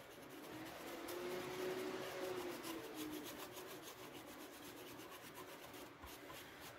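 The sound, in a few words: cleaning solder residue off an antenna plug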